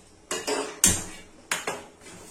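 Eggs go into a pot set up for boiling in a home kitchen, with four sharp metallic clanks and knocks of pot and utensils, close and fairly loud, arriving in two quick pairs.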